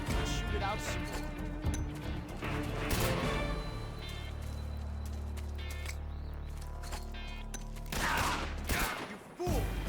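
Gunfire exchange in the stealth action game Metal Gear Solid 3: Snake Eater, with repeated bursts and sharp impacts over a low rumble of game music and effects, and a loud flurry near the end.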